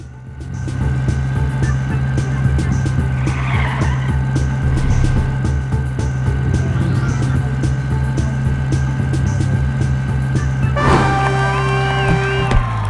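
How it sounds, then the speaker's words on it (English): Continuous drifting from a car in the Sneaky Sasquatch racing game: a droning engine and long tire squeals hold steady and loud for the whole stretch, with a brief flurry of brighter game sounds near the end. "Look at those drifts."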